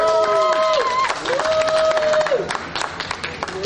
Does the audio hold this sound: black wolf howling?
no